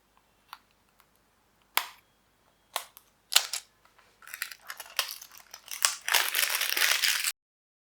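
Packaging for an anti-hairfall serum is unboxed with scattered sharp clicks and snaps, building into sustained close crinkling and rustling of wrapping.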